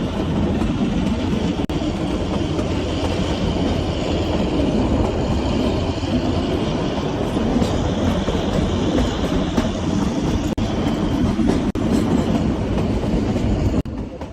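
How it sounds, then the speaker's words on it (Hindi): Kalka–Shimla toy train rolling along its narrow-gauge mountain track on an early morning run, a steady loud rumble with wheel clatter and rail noise filling the whole stretch, no voices. "especially if you're traveling in either of the 2 early morning toy trains"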